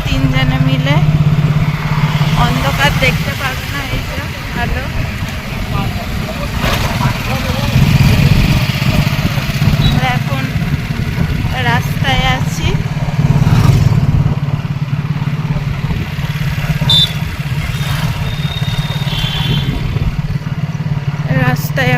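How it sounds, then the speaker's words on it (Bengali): A motorcycle engine hums steadily throughout while riding, with a continuous low drone and wind rumble under occasional voices. "এই দেখো আমরা এখন বাইকে করে যাচ্ছি"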